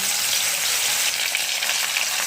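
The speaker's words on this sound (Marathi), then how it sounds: "चला आता भाजीला सुरुवात करते तेल टाकलेलं आहे मी लसूण" Garlic and coriander fry in hot oil for a vegetable curry base, giving a dense, continuous hiss-like sizzle that stays steady and close throughout, with no voices.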